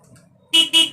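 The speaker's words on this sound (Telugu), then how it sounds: "మళ్ళీ హార్న్ వస్తుంది" A Karizma R motorcycle's horn, tested after a switch installation, blares in three loud, close honks with short gaps, following a moment of quiet rustling.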